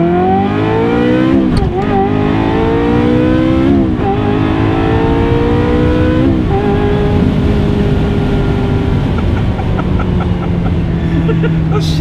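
A Ferrari 355 F1 GTS engine screams loudly and steadily, its pitch sweeping up through each gear and dropping sharply at every abrupt shift, about four shifts over a continuous full-throttle run.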